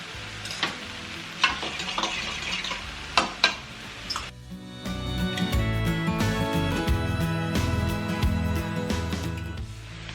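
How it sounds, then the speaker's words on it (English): Mushrooms, onions and minced garlic in a hot pan for a low-carb dinner, starting with a few loud stirring clanks, then a steady, close sizzle of frying that holds to the end. "mushrooms have been cooking for a couple minutes, so we're gonna go ahead, add the onions"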